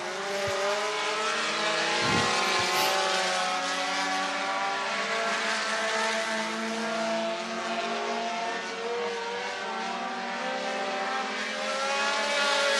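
A front-wheel drive division race car during hot lap qualifying at I-75 Raceway in Niota, Tennessee, its engine droning loudly and steadily throughout with a high harmonic whine and no talk.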